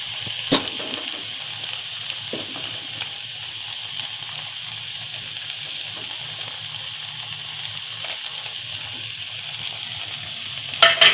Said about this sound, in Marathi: गॅस आता मध्यम ठेवायचा आणि हे चांगलं हलवून घ्यायचं.